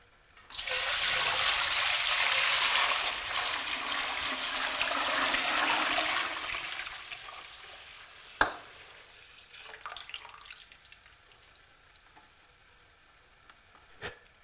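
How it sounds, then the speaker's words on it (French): Ten litres of milk pour into a large cooking pot for cheesemaking, a loud rushing liquid stream for several seconds that tapers off, followed by a few light knocks and drips. "La première étape va être de verser nos 10 litres de lait dans le faitout"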